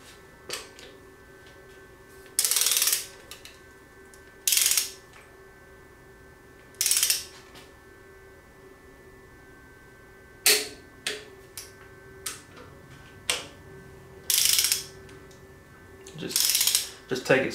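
Torque wrench ratcheting in short bursts while tightening cylinder head bolts on a Foxbody Mustang engine, crisp clicking strokes separated by pauses, close and fairly quiet.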